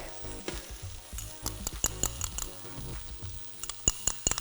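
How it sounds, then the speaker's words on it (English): Garlic frying with onions in a pan for a tomato-based Sicilian meatball sauce, a steady close sizzle broken by repeated sharp scraping and stirring clicks. "I'm going to start adding in my garlic."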